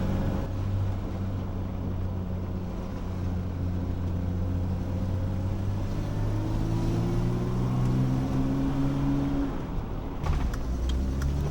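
A BMW E30 turbo car engine pulls steadily in second gear, a continuous loud drone with rising and falling harmonics as revs climb, heard from inside the car, ending with a brief clunk near the end.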